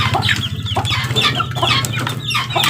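Chickens and young chicks cluck and peep continuously at close range, a dense overlapping flock chatter with a steady low hum underneath.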